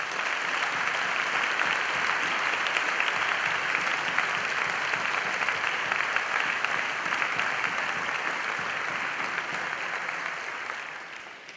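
An audience at a literary award ceremony in Girona applauds with sustained, dense clapping, loud and steady for about eleven seconds before tapering slightly at the end.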